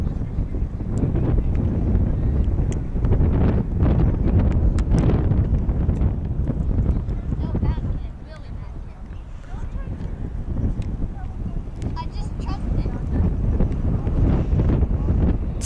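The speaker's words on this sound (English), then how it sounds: "It's windy as frick." Strong wind buffets the microphone outdoors on a field where field goals are being kicked, with loud low rumbling gusts that ease briefly midway, and voices talk faintly underneath.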